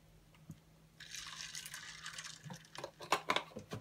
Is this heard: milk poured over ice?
yes